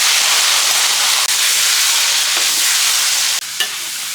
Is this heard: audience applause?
no